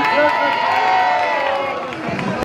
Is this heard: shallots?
no